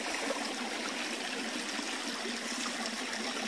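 Water pours steadily into a pot for porridge, a continuous close trickling and splashing stream with no talk.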